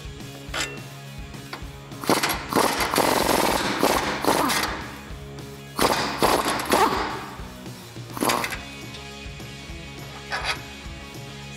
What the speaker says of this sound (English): we're gonna go ahead and remove our first control arm